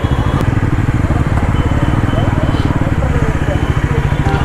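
A Bajaj NS400 motorcycle runs at a dealership launch event with a steady, rhythmic, close-up engine thrum, while people talk over it.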